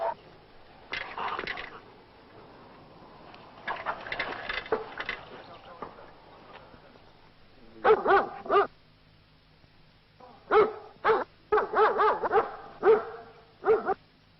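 A guard dog in attack training barks in sharp bursts, first in quieter clusters, then in loud close runs of repeated barks, with handlers' voices and movement in between.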